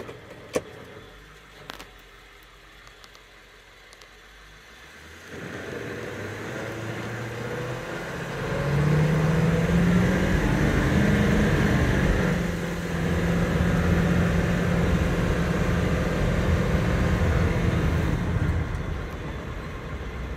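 A 1999 Ford E450 van with a 7.3L Powerstroke diesel engine accelerates from a quiet idle into a steady, loud engine drone heard from inside the cab, rising in pitch and holding at speed.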